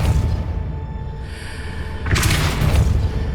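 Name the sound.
Depulso spell cast in Hogwarts Legacy video game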